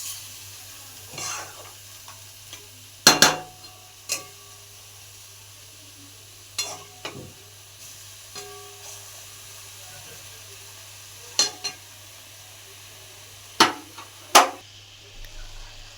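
Chicken pieces frying in a pan for a jackfruit chicken curry, stirred now and then: soft, steady sizzle with a few sharp clatters of the spoon against the pan, spaced several seconds apart.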